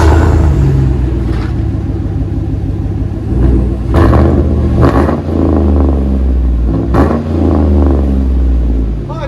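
A 2015 Chevy Tahoe with a 5.3L V8 and a muffler delete, a 3-inch pipe with a double-wall 4-inch tip, rumbling loudly up close with repeated throttle blips and revs over a deep idle.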